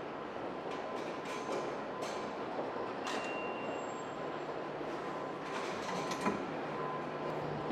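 A New York subway train rolling through the underground, a constant rumbling roar with clacks and a brief faint squeal, heard from inside with no talk.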